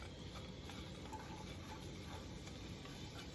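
Celery and onions sautéing in coconut oil in a pan, a steady, soft sizzle with faint stirring clicks running throughout, fairly quiet and close.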